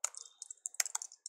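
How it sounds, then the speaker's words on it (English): Quiet typing on a computer keyboard while entering text in a word processor, a quick, uneven run of light clicks in short bursts with brief pauses between them. "just type some stuff in"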